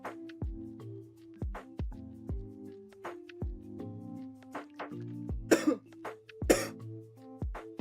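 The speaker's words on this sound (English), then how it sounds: "Hold on, let me cough and then I'll come back." A person coughs and clears their throat up close, with a series of short irregular hacks. A few harsher, louder bursts come near the end.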